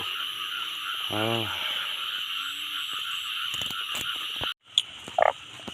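Frogs croak loudly in a pulsing, repeated call close by, set against a steady wash of rain and insect-like hiss, with a brief gap near the end before a few sharp chirps.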